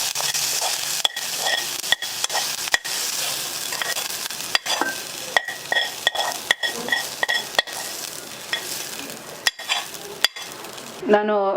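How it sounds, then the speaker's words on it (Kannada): Mustard seeds and asafoetida crackle and sizzle in hot tempering oil for a kosambari side dish, with steady frying hiss broken by sharp, irregular pops and clicks of seeds bursting close by. "ಈಗ ಒಗ್ಗರಣೆಗೆ ಹಿಂಗು ಮತ್ತು ಸಾಸಿವೆ ಹಾಕಿದ್ದೀನಿ"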